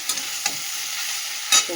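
Food frying in a pan with chilli powder and slit dried red chillies, an even close sizzle punctuated by a few sharp stirring scrapes, the loudest near the end.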